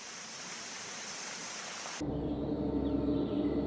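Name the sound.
waterfall in the forest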